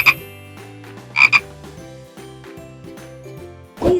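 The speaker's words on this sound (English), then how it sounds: "Frogs make a sound called a ribbit." A cartoon-style frog croaks a few short ribbits near the start and middle, then once more at the end, set over a bouncy children's tune that runs throughout.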